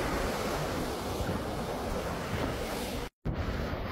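Sea waves and wind on a shoreline, a continuous broadband rush of surf with gusty wind buffeting the microphone, steady and loud, broken by one short dropout near the end.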